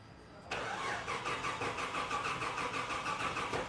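A car engine catches and starts about half a second in, then runs at a steady, loud mid-pitched idle with a slight rev, close by, with no talk.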